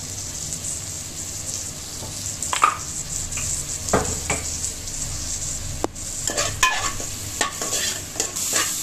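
Onions, tomatoes and dried red chillies fry and sizzle in a pan, with a steady hiss broken by repeated scraping and clinking stirs from a spoon, heard close up with no talking.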